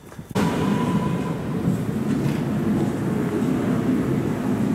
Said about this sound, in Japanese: 山形行きが来るっつったな。